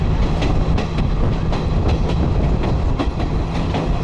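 A train carriage rolls along the rails in Sri Lanka, with a constant loud rumble and regular clickety-clack of wheels over track joints, heard from inside.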